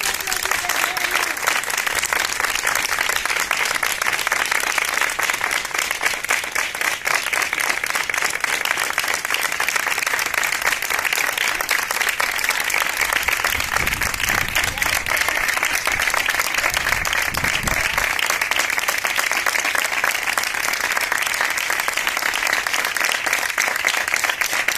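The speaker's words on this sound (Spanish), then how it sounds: "hoy el aplauso es para vosotros." Healthcare workers on duty in a hospital applaud during the coronavirus pandemic, a long continuous wave of clapping from a group, steady and fairly loud with a few low thumps midway.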